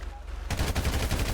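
A loud, rapid burst of gunfire in a Malayalam comedy skit cuts in suddenly after a quiet moment. The shots repeat quickly and evenly for under a second, like an automatic weapon.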